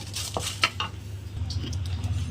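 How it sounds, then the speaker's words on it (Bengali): Dry red chillies tossed in a dry wok for a Bengali pickle, with scattered metallic clinks and scrapes of a spatula against the pan and a faint crackle beneath, close and moderately quiet. "এটাকে আমি শুকনো কড়াইতে ভালো করে ভেজে নেব।"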